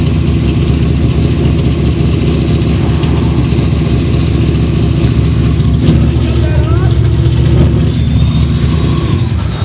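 A race car engine idles loud and steady at a Topless Nationals feature event, a continuous low rumble holding close by throughout, with crowd and announcer noise mixed in underneath.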